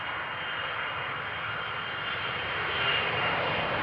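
A Boeing 777 arrives on runway 18R at Amsterdam Schiphol, its engines roaring steadily and loudly, swelling slightly toward the end as the jet passes close by.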